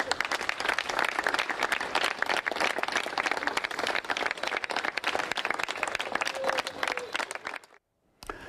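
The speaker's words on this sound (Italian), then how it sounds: "in cielo sono volati tanti palloncini bianchi a forma di cuore ed un applauso ha accompagnato Marian nel suo ultimo viaggio." Mourners applaud as white heart-shaped balloons are released at the close of an outdoor funeral ceremony, a dense, even crowd clapping that carries on for several seconds before cutting abruptly to brief silence.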